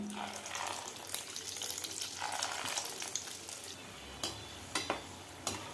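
Spoonfuls of snack batter bubble and sizzle in hot oil, a soft frying hiss with scattered light clinks and scraping of a ladle, fairly quiet and close.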